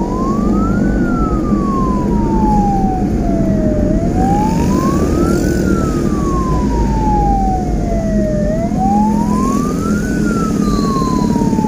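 An Indonesian ambulance siren, escorted through busy traffic, sweeps up and down in slow repeating wails, loud and close, over steady road and engine rumble.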